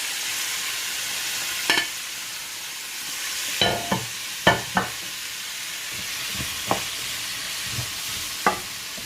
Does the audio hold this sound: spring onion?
yes